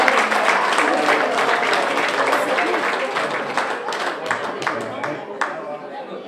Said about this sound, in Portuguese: Para ele, uma salva de palmas.